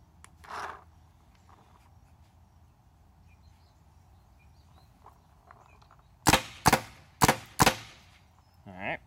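A paintball marker fired with Redemption paint at a 685 one-piece barrel: four sharp, loud shots in quick succession near the end, after a quiet stretch with one soft thump early on.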